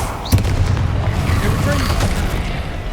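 A Confringo fire spell bursts with a sharp explosive boom early on, then gives way to a continuous low rumble of combat effects in the Hogwarts Legacy video game.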